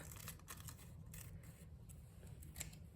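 Scissors cut through a paper napkin in a series of quiet, close snips and crisp rustles, irregular in rhythm, heard alone without talk.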